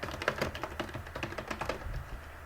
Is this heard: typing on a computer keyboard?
yes